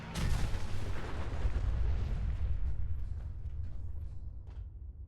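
Heavy gunfire in the video game Fallout 4 starts with a loud boom and rolls into a sustained rumbling barrage that slowly fades, with a few sharp cracks near the end.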